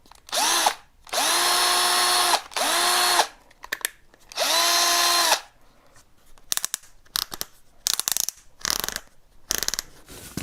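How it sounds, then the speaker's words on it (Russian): A LYUWO 12V LW-5012 cordless screwdriver drives self-tapping screws in three sustained whirring bursts with a steady motor pitch, then falls quiet apart from sharp clicks and handling clatter near the end. "мы пойдем каких-нибудь там для наглядности пару саморезов куда-нибудь вкрутим"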